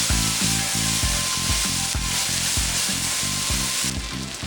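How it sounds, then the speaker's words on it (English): Chopped garlic stirred into dill in a hot pan, a constant loud sizzle with rhythmic scraping strokes of a utensil every half second or so. "add in a few chopped garlics. Mix it in"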